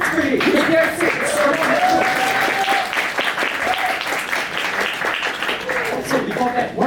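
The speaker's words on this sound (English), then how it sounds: "let's give it another round of applause." Audience at a tech meetup applauds continuously, a dense, steady wash of clapping with a voice speaking over it.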